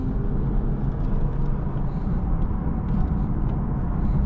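A 2025 Lexus IS 350 F Sport sedan accelerating and taking corners, its continuous broad engine and road roar heard from inside the cabin at an even, sustained level.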